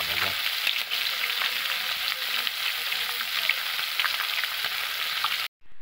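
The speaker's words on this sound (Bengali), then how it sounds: "মাছ ভাজতেছি" Fish frying in a home kitchen pan gives a steady, loud sizzle with light crackles, continuous for about five seconds before cutting off abruptly.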